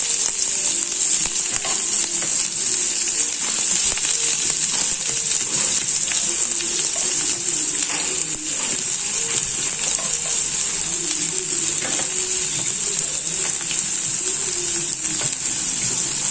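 Sliced onions fry in hot oil in a pan after mustard seeds, making a loud, continuous hissing sizzle with occasional faint ticks of stirring throughout, and no voices.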